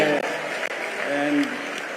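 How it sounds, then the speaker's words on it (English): Crowd applauding at an awards ceremony in Nairobi, a steady wash of clapping with voices over it. "Please a round of applause."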